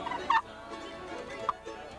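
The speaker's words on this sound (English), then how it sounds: "These kind of calls are harder to make turkey sounds with." Old wooden turkey call worked by hand at an outdoor field day, giving a few short, faint yelping hen-style notes with brief gaps between them.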